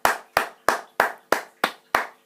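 Slow, evenly spaced clapping from an audience praising a question, seven sharp distinct claps about a third of a second apart, each ringing briefly in a reverberant room.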